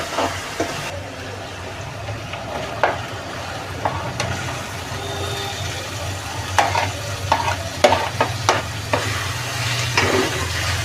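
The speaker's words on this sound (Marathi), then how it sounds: "एक पाच मिनिटं जरा परतायची" Spiced minced meat (keema) sautéed and stirred in a pan, with steady frying sizzle and frequent sharp spatula scrapes and knocks, irregular and close, growing busier toward the end.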